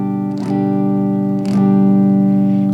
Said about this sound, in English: to play chords, we should always try and place our fingers in a sort of an arched fashion